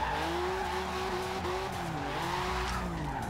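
A 1982 Porsche 911 Turbo 3.3 drift build in Forza Horizon 2 slides through a hairpin. Its tires give a sustained, loud squeal that bends in pitch over a steady engine drone throughout.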